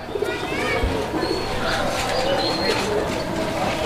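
A feather-footed fancy pigeon coos in soft, repeated throaty calls at a farm loft, with other bird chirps and a murmur of background noise around it.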